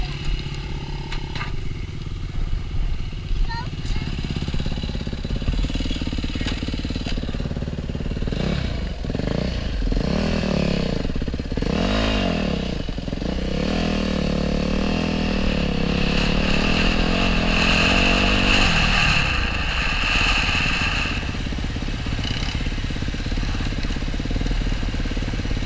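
A dirt bike engine runs steadily on a Central Oregon ride, its loud, close idle climbing into revs and easing back down over a dense rumble, with no talk.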